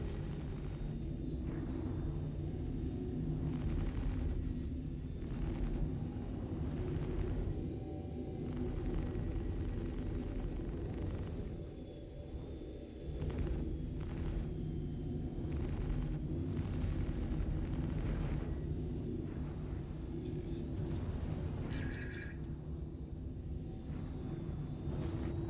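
Gunfire and explosions in the space game Star Citizen, heard as a dense, continuous low rumble punctuated by booms and bursts, loud and sustained with no talk.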